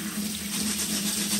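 Warm water runs steadily from a kitchen tap into a sink, a constant close splashing stream with a faint tonal hum and no voices.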